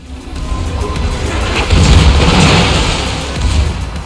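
Distant destroyer gunfire in World of Warships, heard from aboard a Tier 9 German battleship: a rolling series of low, muffled booms that swell and fade over a few seconds, with no speech.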